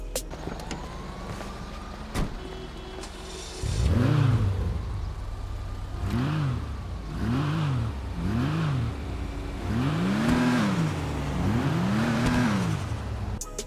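Nebula Turbo car engine in GTA 5 Online, revving in a series of five or six rising and falling bursts over a steady idle, loud and close, with no talking.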